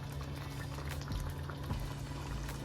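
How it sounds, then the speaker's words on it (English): Meatballs in sauce simmering in a pot for a meatball sub, a soft continuous bubbling with low gurgling pops, quiet and close, with no talk. "And you allow this to simmer."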